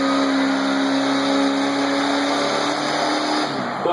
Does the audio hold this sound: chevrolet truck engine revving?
yes